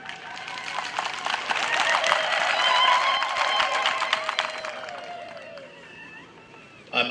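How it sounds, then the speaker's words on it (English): Graduation-ceremony audience at Kabale University applauding, with dense, steady clapping from a large crowd that swells, holds for several seconds, then thins out near the end. "A big hand clap."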